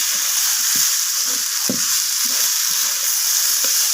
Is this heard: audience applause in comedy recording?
no